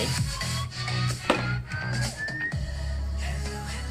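Music plays through a small DIY Bluetooth speaker styled like a Marshall Stockwell, with 3-inch 6-ohm 15-watt HK drivers, a thumping bass line beneath whistle-like melodic notes, fairly close and moderately loud.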